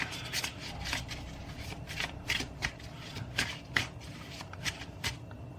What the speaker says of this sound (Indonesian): Aku shuffle lagi ya